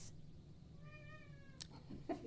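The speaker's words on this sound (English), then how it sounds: "we have some kitties going off in the background" Several cats meow in the background of a room, with a clear drawn-out meow in the middle followed by shorter scattered cries and small knocks, fairly faint against low room noise, with no talking over them.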